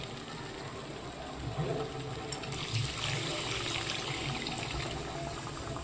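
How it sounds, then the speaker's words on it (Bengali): Water poured into cooked spice paste for Rohu fish kalia, a gushing splash that swells into a brighter hiss over the sizzling pan partway through, heard close with no talking. "মশলাটা কষা হয়ে গেছে, এবার আমি জল দিয়ে দিচ্ছি।"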